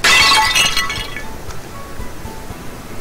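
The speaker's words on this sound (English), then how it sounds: "The bottle smashes to pieces at my feet." A glass bottle smashes on the floor in Never Island: a loud, sharp shatter with tinkling shards, then a fading scatter of small clinks.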